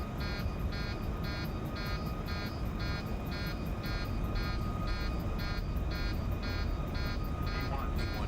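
A repeating intermittent warning horn in a Boeing 737 MAX 8 flight simulator cockpit, the takeoff configuration alert, sounds in steady regular pulses throughout over a constant engine and cockpit roar.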